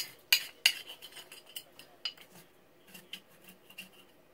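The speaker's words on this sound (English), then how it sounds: "A little bit of scraping." Someone scrapes a paper label off a glass beer bottle, giving a run of light scratchy and clinking scrapes, two sharper strokes at the start, then softer irregular scratches, close and quiet with no talk.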